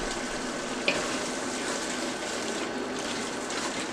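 Loose ground meat fries in a pan with Worcestershire sauce while being stirred, a steady close hiss and sizzle with one faint scrape, no voices.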